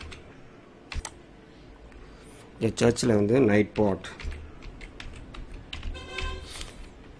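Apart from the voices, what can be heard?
typing on a computer keyboard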